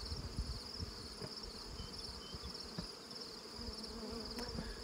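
Honey bees buzz around hives after being smoked heavily and bearding on the boxes, a steady dense drone of many insects at moderate distance, with no voices.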